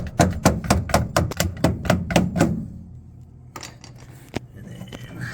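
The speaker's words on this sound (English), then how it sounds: "You have more space to use a hammer to hammer it in." Hammer tapping a washer tab into place on an LG front-loading washing machine during shock absorber replacement, a quick run of about a dozen sharp metallic blows, then a pause and a few scattered softer knocks, close and without talk.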